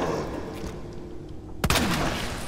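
Single sharp handgun shot in the Resident Evil 2 remake, a loud crack over a dense background of game sound and music.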